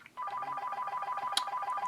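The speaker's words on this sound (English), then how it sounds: "Phone is ringing, apologize." A telephone rings indoors with a steady electronic warbling tone that repeats in quick pulses, loud and close, without talk over it.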